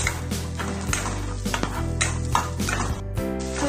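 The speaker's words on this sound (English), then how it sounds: "And then you can saute the garlic and onions." Sisig is sautéed with garlic and onions in a pan, with a steady loud sizzle and repeated scraping and clinking of a utensil stirring against the metal, close up and continuous.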